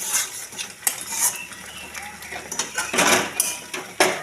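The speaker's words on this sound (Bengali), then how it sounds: "কাজু আর কিশমিশগুলো এই আনারসের পেস্টটার মধ্যে দিয়ে দিচ্ছি, দিয়ে ভালো করে কষিয়ে নিই।" Pineapple paste with cashews and raisins being worked in a pan for chutney, a utensil scraping and clinking against the metal in irregular close taps and scrapes, with no talking.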